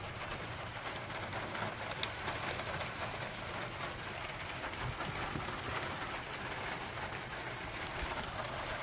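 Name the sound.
heavy rain pouring down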